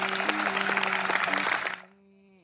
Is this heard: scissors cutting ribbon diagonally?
no